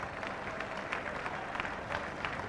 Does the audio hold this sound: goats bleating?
no